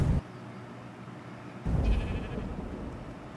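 Sheep bleating in the modded survival game ARK, a short sharp bleat at the start and a louder, fuller bleat midway, set against a low in-game background hum with no talking.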